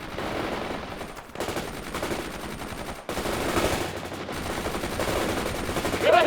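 Machine gun fire in the World in Conflict combat video game, rapid dense bursts of automatic shots in several long volleys with brief gaps, loud and close.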